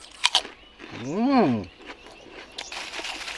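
Shrimp crackers crunch crisply in the mouth in a few sharp bites near the start and again later, and a man hums in a rising and falling tone between the bites.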